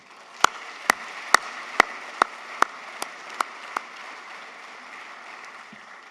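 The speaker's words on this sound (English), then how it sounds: "Please give yourself a well-deserved round of applause." Awards ceremony audience giving a round of applause, a soft, distant patter of many hands, with a handful of loud, evenly spaced individual claps near the front that stop after about four seconds while the quieter clapping continues.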